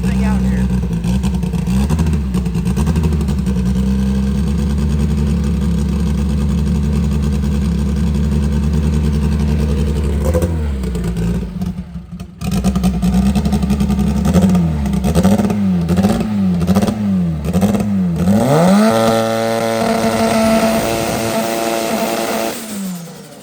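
A race car engine, just fitted with a new cam crank sensor, idles loudly up close, briefly drops out, then catches again and revs in repeated rising and falling bursts before settling.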